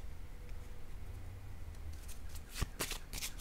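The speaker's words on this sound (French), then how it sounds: "Je vais déposer une autre carte." During a tarot reading, a card is laid down, giving a few soft, brisk papery slaps and shuffles near the end over a low quiet background.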